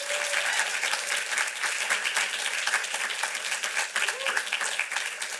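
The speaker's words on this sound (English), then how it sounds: "Another round of applause for Haley." An audience at a community kickoff event applauds steadily, a dense wash of many hands clapping at moderate distance with no voices over it.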